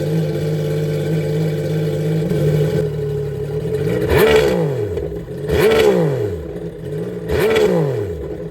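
A 2025 Yamaha JetBlaster jet ski with a RIVA Racing Stage 1 exhaust idles steadily, then is revved in three short bursts that climb and drop back, close and loud with no speech.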